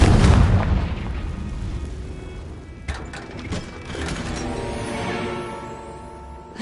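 A Confringo fire spell goes off in Hogwarts Legacy with a heavy booming blast and crackle at the start, followed by further bursts and mechanical rumbling that gradually fade.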